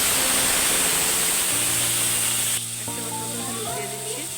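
Ginger paste goes into hot oil with whole garam masala and cinnamon for a soyabean kofta curry, giving a loud, bright sizzle that drops back partway through to a softer frying hiss.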